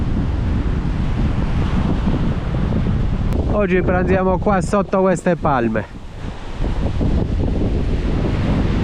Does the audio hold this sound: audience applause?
no